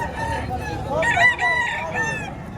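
A Talisayan gamefowl rooster crowing up close at a market, one full, loud cock-a-doodle-doo with a wavering rise and trailing fall over a low background murmur.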